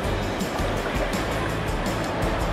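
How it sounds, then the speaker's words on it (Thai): Strong waves in an artificial sea wave pool at a water park in Suan Phueng, Ratchaburi, make a loud, continuous wash of churning water that rushes and breaks steadily throughout, with no talk. "ในส่วนอีกฝั่งนึงของสวนน้ำนะคะก็จะเป็นทะเลเทียมคลื่นแรงมาก"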